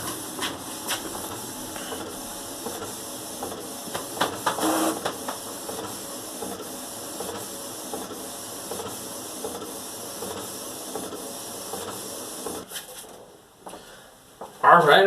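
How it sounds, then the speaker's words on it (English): An inkjet printer prints film, a long stretch of soft mechanical whirring and hissing with faint clicks and carriage movement, ending in a louder burst of motion. "So let's finish this printing."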